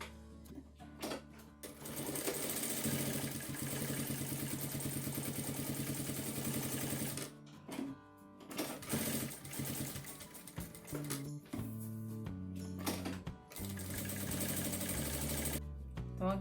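A domestic sewing machine runs a straight seam at stitch length 3.5, a close, loud mechanical whir in long bursts with short pauses between runs and no talking.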